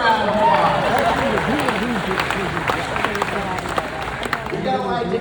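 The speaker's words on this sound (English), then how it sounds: "Give it a round of applause." An audience at a re-election campaign event in Community Bible Church gives a round of applause, moderate clapping mixed with crowd murmur and a few shouted voices over the room.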